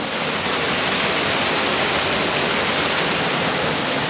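River water rushing steadily during a hillwalk crossing in Ireland's Galtee Mountains, a loud, continuous broadband roar close by with no pauses and no voices.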